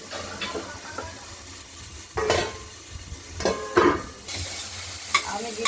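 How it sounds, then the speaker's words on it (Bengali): Okra and potatoes fry in a pan with a soft continuous sizzle, while a spoon stirs and scrapes against the pan in several louder bursts, close by and without speech. "ঢেঁড়স আলুগুলো ভাজা ভাজা হচ্ছে।"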